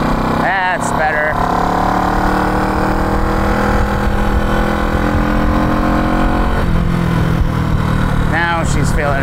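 A neglected classic motorcycle engine runs loud and close under power, with a steady droning rumble and a rising rev toward the end, while someone talks over it.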